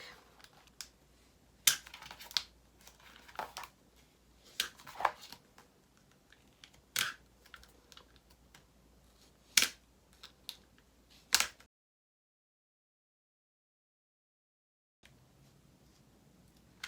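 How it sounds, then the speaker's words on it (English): Knife slicing and peeling back corrugated plastic sheet for a DIY soap mold, giving a series of sharp close snaps and scraping crackles spread irregularly, then a gap of silence before faint handling noise. "You want to take your knife and you're going to cut each one of these and peel it back"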